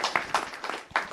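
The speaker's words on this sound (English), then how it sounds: "All right, round of applause" A short burst of audience applause at a startup pitch event, a handful of distinct claps standing out from a light crowd patter, brief and close.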